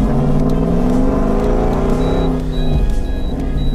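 A car engine revs hard under acceleration, its droning tone climbing steadily in pitch, loud and close throughout with no talking.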